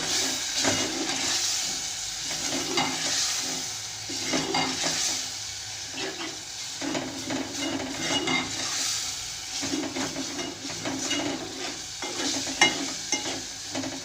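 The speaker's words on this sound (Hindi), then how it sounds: "जितना अच्छा भुनेगा उतना अच्छा कीमा बनेगा" Minced meat (keema) with peas stir-fried in a pan, a steady broadband sizzle and frying hiss with repeated stirring scrapes and clinks of a utensil against the pan, close and continuous throughout with no talk.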